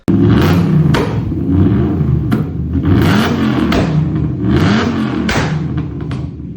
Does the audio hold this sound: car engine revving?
yes